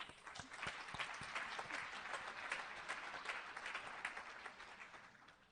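A warm round of applause from a conference audience for the panelists of a session on a feminist digital future, steady dense clapping across the room that gradually tapers off.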